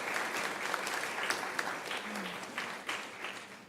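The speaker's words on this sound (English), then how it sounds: "I would ask for an applause for Governor Cox." An audience at a Muslim Heritage Month opening ceremony at Salt Lake Community College applauds Governor Cox, with moderately loud, steady clapping that tapers near the end.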